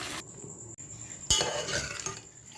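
Boneless chicken frying in a pot for karahi, stirred with a metal utensil that scrapes and clinks against the pan over a soft sizzle, close and fairly quiet for a few seconds.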